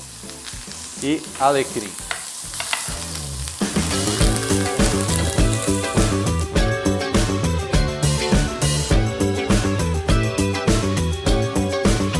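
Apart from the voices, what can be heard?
lamb rack searing and basting in butter with thyme, rosemary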